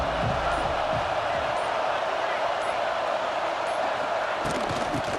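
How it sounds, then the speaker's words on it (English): A stadium crowd roars loud and continuous in the college football video game, a dense wall of cheering with faint rhythmic chants running under it. "This crowd bringing an ear-splitting welcome to their visitors."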